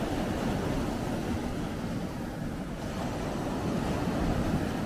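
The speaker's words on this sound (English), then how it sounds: "I just love the sound of the waves lapping" Waves lapping on a shoreline make a steady broadband wash with soft surges, heard at moderate level and mixed with wind buffeting the microphone, with no voices.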